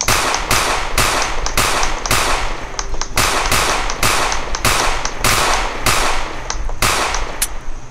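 Rapid bursts of video game gunfire in a zombie shooter set in a fast food restaurant, loud, close and steady, with about a dozen sharp shots repeating at a regular rhythm and nothing else heard.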